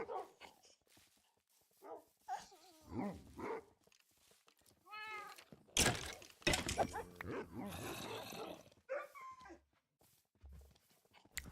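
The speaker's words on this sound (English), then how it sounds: "some of those wolf barks are like, they don't sound very good" Wolf barks and cat meows from Minecraft sound in short bursts, close and fairly loud, some with a strained, yelping quality, mixed with other game noises.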